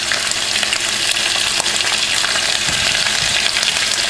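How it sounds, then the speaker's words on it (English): Smoked turkey meat fries with tomato paste in a pot for a Haitian stew, a dense, continuous sizzle with scattered crackles and occasional stirring scrapes close by, without any speech. "grab the meat and we are going to return it into the pot again, just so it can get a little color as the tomato paste cooks"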